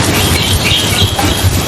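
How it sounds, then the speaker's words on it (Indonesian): Rain falls as a dense, continuous hiss at even loudness for a short stretch, with nothing else heard. "itu adalah suara hujan"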